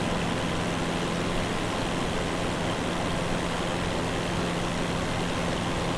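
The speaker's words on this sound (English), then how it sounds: "Going to increase the throttle here." An aircraft engine in Microsoft Flight Simulator, flying over Central Park in New York, gives a steady, loud, broadband roar as the throttle is increased, holding constant throughout with no speech.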